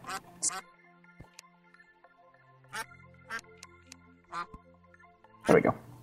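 Ducks at a pond in Terraria: a handful of sparse, fairly quiet quacks spaced over a soft musical backdrop, ending in a louder burst.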